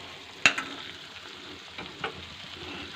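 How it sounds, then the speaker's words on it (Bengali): Spices crackle and sizzle steadily in hot oil in a pan while being fried for a dhaba-style egg tarka, with a sharp spatula tap and a few small pops, close and alone without speech. "এটা আমি পোড়াবো না, জাস্ট ভাজা ভাজা হতে দেবো আর গন্ধটা জাস্ট বেরোতে দেবো।"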